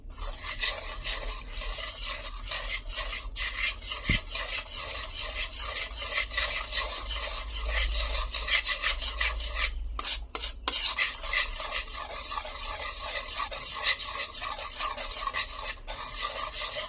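Wheat flour cake batter whisked steadily in one direction in a bowl, a continuous close, scraping rasp with a brief clink partway through, no talking.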